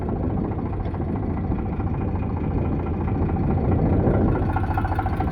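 A 2014 Eicher 368 tractor engine idles with a continuous deep, steady rumble, near and fairly loud, swelling slightly toward the end, with no voices.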